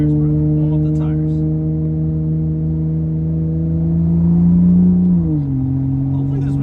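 A tuned 2015 BMW 335i with full bolt-ons accelerating to warm its tires, a loud steady engine drone heard from inside the cabin that rises gradually in pitch and then drops as it shifts.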